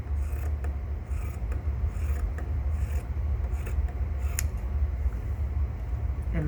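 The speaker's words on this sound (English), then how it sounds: "Next, I'm going to take the sleeves and just cut them off." Scissors slicing the sleeves off a cotton T-shirt, a steady close rubbing, rasping cut with faint intermittent snips, no talking.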